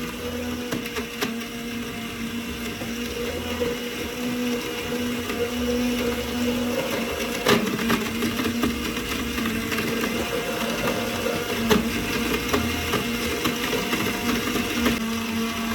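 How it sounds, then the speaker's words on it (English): A commercial blender runs steadily with a grinding, whirring hum and occasional sharp clicks and rattles as it chops a big chunk of coconut, no voices. "I'm letting my coconut blend so I can get the rich coconut juice out of it"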